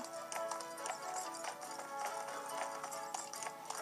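Rapid rhythmic clip-clop of galloping horse hooves in the Nintendo game Horses 3D Imagine Champion Rider, over a busy, bright game soundtrack, steady and moderately loud throughout.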